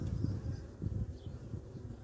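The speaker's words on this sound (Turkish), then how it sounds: "Arı yoğunu çok güzel halen" Honeybees buzz in a dense low hum around a split beehive whose queen was not accepted, a steady close drone with no voices.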